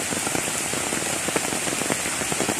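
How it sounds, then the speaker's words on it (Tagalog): Steady rain pours down on a wet morning, a dense, even patter of drops striking surfaces with scattered louder splashes throughout, close and continuous with no voices. "Yes, still raining."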